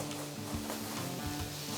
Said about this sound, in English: I'm going to get that sizzling.